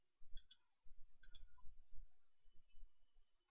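Computer mouse clicking through a file-open dialog, a few faint, sharp clicks in quick pairs separated by quiet pauses, close and soft with no talking.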